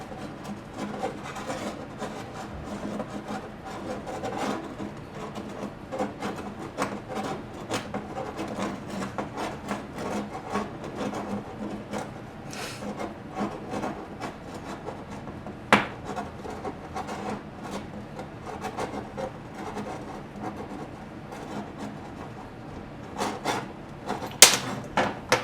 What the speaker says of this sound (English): But since I've got a copper tubing cutter, I'm just going to cut it like this.